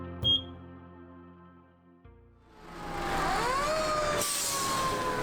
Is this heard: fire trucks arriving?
yes